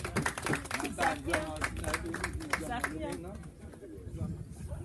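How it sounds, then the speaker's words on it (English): A short burst of clapping from a group at the opening of an organic farm, fading out after a few seconds while a voice talks over it. "I think we ought to give them a round of applause."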